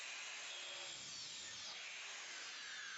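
A DualTools CS450 dual saw with counter-rotating blades cuts through copper pipe, giving a steady, faint, high-pitched grinding whir that runs unbroken with no voices.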